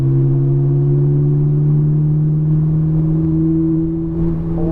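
A car engine hums steadily at a constant low pitch as the driver eases off the throttle on a track, a smooth near drone with little change in revs until a slight dip in load near the end.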